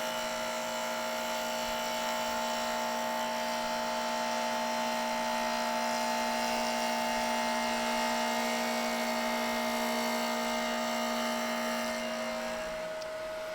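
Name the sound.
electric fan running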